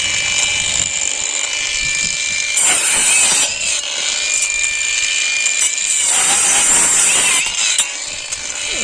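A DWT or Worcraft angle grinder runs continuously with a loud, high, steady whine, its pitch and intensity shifting slightly a few times as it spins, heard up close with no talking.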